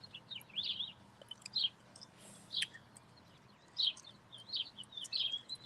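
Several birds chirp and sing in short bright bursts, spaced irregularly and moderately near, over a low steady background hum, with no talk.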